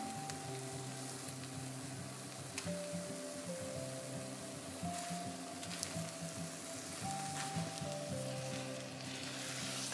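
Omelette frying quietly in a pan, a soft continuous sizzle with faint crackles and low background hum, no voices.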